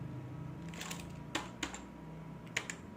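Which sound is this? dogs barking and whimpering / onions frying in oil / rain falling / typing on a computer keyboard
typing on a computer keyboard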